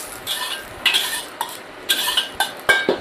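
Stir-frying in a pan for a stir-fried soy sauce dish, with sharp metal scrapes and clanks of a spatula at irregular intervals over a faint sizzle.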